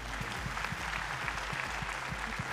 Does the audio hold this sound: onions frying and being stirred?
no